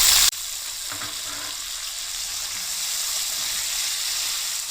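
Chopped tomatoes hit hot oil in a pan with a sharp initial burst, then settle into a steady, close, even sizzle with no talking.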